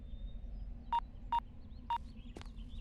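A phone keypad sends three short, evenly spaced dialing tones, clean and fairly loud over a low background hum, followed by a faint brief rustle.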